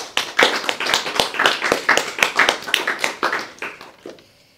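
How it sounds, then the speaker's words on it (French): Audience applause closing a philosophy salon talk, a dense burst of clapping hands with sharp individual claps standing out, loud and close, fading out at the end. "Je vous demande d'applaudir une nouvelle fois Claire Turkovitch."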